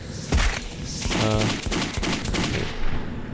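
Pistol gunfire in the Metro 2033 video game: a few sharp, close shots in quick succession, loud over a busy in-game background with no talking.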